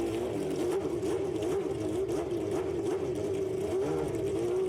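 Red Bull X2019 25th Anniversary race car in Gran Turismo 7, its engine holding a loud, steady high-pitched whine with slight wavering revs throughout, no voices.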